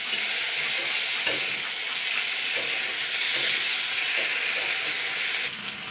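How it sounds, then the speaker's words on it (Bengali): Potato slices fry gently in oil with a steady, close sizzle and a few faint stirring clicks. "এই এমনভাবে ভাজতে হবে যেন আলুগুলো যেন না ভেঙে যায়"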